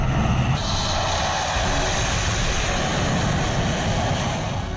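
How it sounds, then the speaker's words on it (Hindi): A fighter jet roars loudly overhead during a rehearsal on an expressway airstrip, a continuous broadband jet rumble holding steady throughout with no voices. "इसका ट्रेलर आप एक्सप्रेसवे पर रिहर्सल करते लड़ाकू विमान की गर्जना से समझ सकते"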